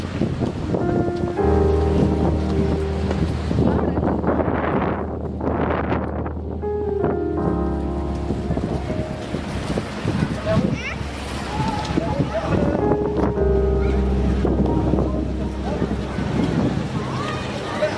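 Ocean surf and gusting wind at the Magasayl beach blowholes near Salalah, Oman, a loud continuous rush with swelling waves and buffeting wind on the microphone, while someone talks over it.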